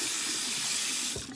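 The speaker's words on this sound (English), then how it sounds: "Now I'm gonna wash my hands" Hands washed under a running bathroom tap, a steady close hiss of flowing water that dips briefly near the end, with no talking.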